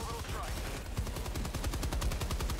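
Stalwart machine gun firing in the Helldivers 2 video game: a steady, rapid stream of loud automatic shots that begins about a second in and hammers on to the end over busy battle noise.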